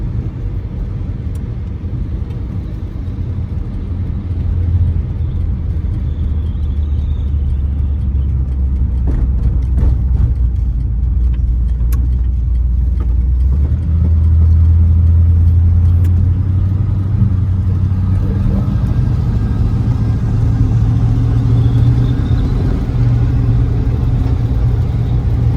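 A 1955 Ford Thunderbird with the removable hardtop cruises on the road, its engine a steady, loud rumble that swells slightly as it accelerates, with continuous road and wind noise throughout.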